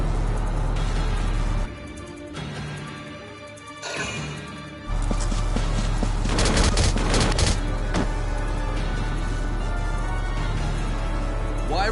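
Gunfire in the tactical video game Valkyria Chronicles: bursts of rapid shots and booming impacts, quieter at first and then louder and denser, over a constant low game hum.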